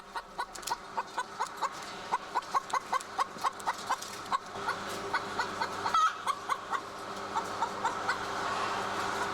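Caged laying hens in a crowded cage house keep up a steady run of short, rhythmic clucks, dozens in quick succession, moderately close over a continuous low barn hum.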